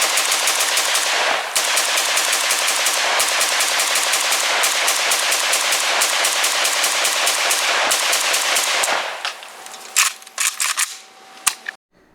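Long, rapid bursts of automatic fire from an RPK74 light machine gun chambered in 5.45x39, loud and close, with sharp repeated reports that break into short bursts and single shots near the end.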